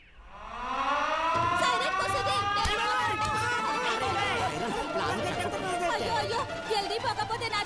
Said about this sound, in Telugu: సైరన్ కుస్తుంది